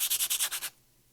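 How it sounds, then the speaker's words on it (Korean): Wood being sanded by hand with sandpaper, about six quick rhythmic rubbing strokes, close and clear, then quiet. "사포질을 하십니다."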